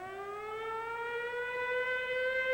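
A wartime civil defense air raid siren in California wails steadily with a slowly rising pitch, loud and continuous throughout with no voices.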